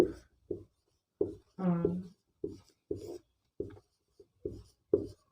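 Marker or chalk writing on a board during a maths lesson on number systems, a series of short scratchy strokes in an irregular rhythm, close and fairly quiet, with one longer squeaky stroke.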